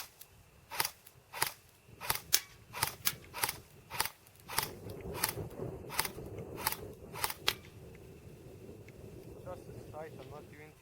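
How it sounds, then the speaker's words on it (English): A Cybergun AK47 AIMS blowback airsoft gun fires a string of about fifteen sharp, snappy single shots at small targets about 60 feet away, with the bolt clacking on each shot before the firing stops. "I'll be shooting this at a fairly large distance, and I'd call it 60 feet"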